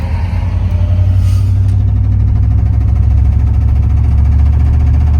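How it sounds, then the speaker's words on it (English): Truck engine idling with a suspected ticking lifter, a loud steady low-pitched rumble running throughout, with a faint metallic ticking beneath it and no talking. "Lifter is ticking."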